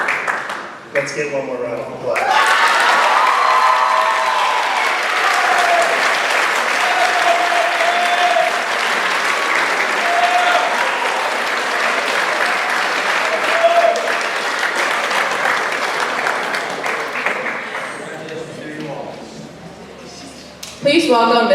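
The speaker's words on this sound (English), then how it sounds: "Let's get one more round of applause." A large audience at a senior arts awards ceremony breaks into loud, sustained applause with cheering and whoops, swelling after a brief spoken introduction and fading near the end as a voice returns.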